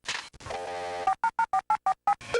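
A quick run of telephone dialing: a steady tone, then about eight short touch-tone beeps in a rapid, even rhythm, clear and close.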